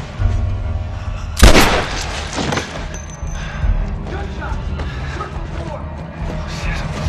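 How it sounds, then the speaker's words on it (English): A single loud gunshot rings out in The Last of Us during the Firefly lab sequence, a sharp blast followed by crashing debris and game combat noise, with voices talking around it. "Gunshot!"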